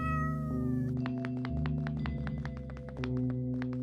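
Cats meowing in the video game OneShot, a stretch of short, evenly spaced mews over a sustained synth music bed and a brief melodic tone at the start.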